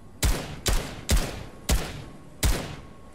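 Five evenly spaced gunshots from the player's weapon in a video game, each a sharp, loud crack with a short decaying tail, fired in quick succession with no talking.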